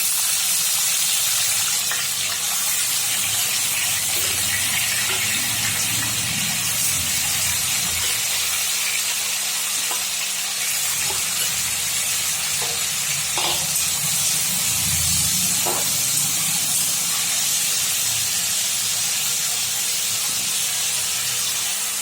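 Ridge gourd coated in salt and turmeric hits hot mustard oil in a pan, giving a loud, sustained sizzling hiss with occasional soft knocks and bubbling swells throughout, without speech.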